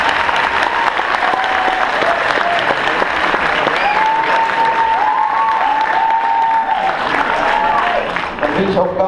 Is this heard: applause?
yes